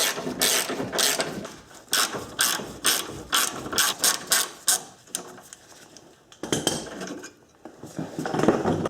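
Hand ratchet working 14mm bolts loose from a Subaru suspension bracket, with rapid bursts of close metallic clicking in repeated strokes, pauses between runs, and a final flurry of ratchet clicks.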